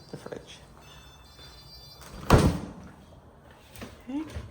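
Refrigerator door in a house pushed shut with a single loud thunk near the middle, set against a quiet room with faint movement and a brief voice afterward.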